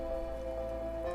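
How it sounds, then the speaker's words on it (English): Steady rain in the video game Outer Wilds, a soft continuous patter on surfaces with a constant low ambient drone, no voices. "It's a little rainy."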